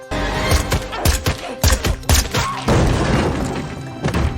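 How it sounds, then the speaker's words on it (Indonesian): Pistol shots fired in a film scene, a rapid series of loud, sharp bangs and thuds spread across a few seconds over a busy, dense soundtrack. "Violet mengambil pistol itu dan menembak penyerangnya."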